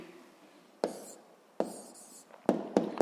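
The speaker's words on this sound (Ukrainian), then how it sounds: "Отже, записуємо тоді відповідь." A pen writes an answer on paper in short, close scratchy strokes with brief pauses between them, quiet and alone.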